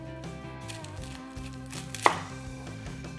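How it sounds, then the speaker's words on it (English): A knife chops down through the top of a whole head of garlic on a cutting board, one sharp single cut over steady background music. "Just going to chop off the top."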